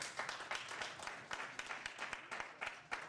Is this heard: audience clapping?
yes